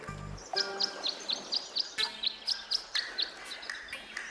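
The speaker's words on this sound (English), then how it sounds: "The birds seem to like it. They're even singing a little tune." Birds chirp a short repeated tune at a bird bath in the video game Tangle Tower, about a dozen bright, evenly spaced tweets in a quick rhythm, clear and fairly close against a quiet background.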